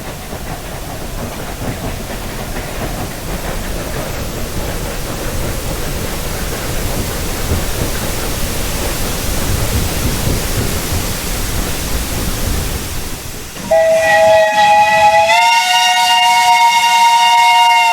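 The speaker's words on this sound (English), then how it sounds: "Here we see the train approaching from the bridge." Steam train on the Romney, Hythe and Dymchurch Railway approaching Romney Warren from the bridge, a steady rumbling roll of carriages that ends in a loud, sustained whistle blast.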